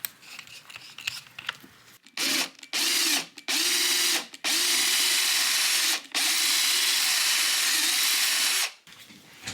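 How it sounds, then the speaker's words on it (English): A power drill bores into the neck dovetail joint of a 1957 Gretsch 6120 guitar in five loud, high-pitched whirring bursts of varying length, separated by short pauses. "So I'm going to drill down a little bit, pull out the dust, drill in a little bit further, pull out the dust."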